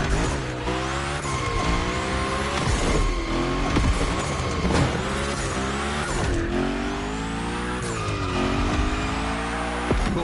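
A Hoonigan car in The Crew Motorfest slides through gymkhana moves, its engine revving and dropping in repeated swells while tires squeal loudly over the whole stretch.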